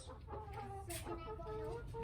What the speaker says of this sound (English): we're gonna feed the chickens leftover food